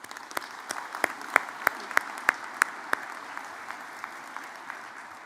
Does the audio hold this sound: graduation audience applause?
yes